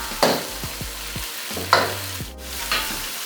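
Chicken kebab karahi, Peshawari street-food style, cooking in a pan with steady sizzling and a few loud metallic scrapes and clanks of a spatula, close up and with no talk.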